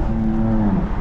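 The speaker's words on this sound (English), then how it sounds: "Man, this car is loud." A 580-horsepower BMW M3 engine on a night drive, heard from inside as a loud, steady rumble with a sustained droning engine tone that dips slightly near the end.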